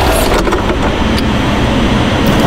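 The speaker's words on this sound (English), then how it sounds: "that is the sound of a failing coupler bearing." Engine with a failing supercharger coupler bearing, a loud steady running roar filling the clip with faint knocking transients, no clear shut-off evident.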